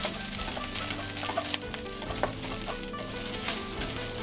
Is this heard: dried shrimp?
yes